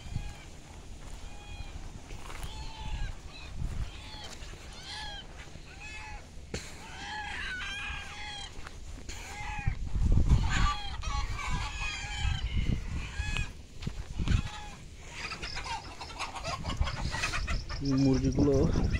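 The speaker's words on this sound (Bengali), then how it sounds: "এর ভিতরে বেশিরভাগই মোরগ, সৌদিয়ান মোরগ" Saudi roosters and hens on an Arabian farm, with repeated clucking and several crows from nearby birds across the stretch, some overlapping, mixed with rustling and occasional handling noises and faint talk.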